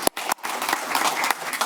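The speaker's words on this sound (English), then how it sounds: "Can we give her a round of applause, please?" An audience at a municipal ordinance and animal control seminar applauds in a steady, dense wash of clapping, broken by a few brief dips.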